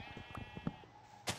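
In the blocky Minecraft world, sheep let out a few short, faint bleats, quiet and close together.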